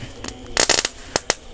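Fountain firework lit outdoors during Lebaran celebrations, crackling in a few sharp bursts and pops with short gaps between, close and fairly loud.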